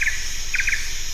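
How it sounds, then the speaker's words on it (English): Bird calls in the video game Metal Gear Solid 3: Snake Eater, three short chirping bursts over steady jungle ambience with an insect-like drone, close and fairly loud. "Birds in the game sound worse than the birds in real life."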